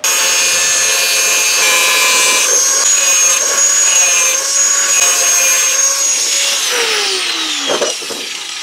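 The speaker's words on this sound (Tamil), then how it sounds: "இப்போ நம்ம மார்க் பண்ணியிருக்க இடத்த வந்து கட் பண்ணிட்டு தரலாம்." Power cutting tool slicing through a marked sheet for a gearless bicycle speed modification: a loud, steady whining grind that holds for several seconds, shifts pitch, then trails off, close up with no talking.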